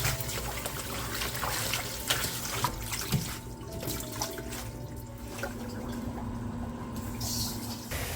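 Running tap water splashes steadily into a sink as spring cabbage leaves are rubbed and rinsed to loosen clay-like soil, a continuous close trickle and gush with no talking.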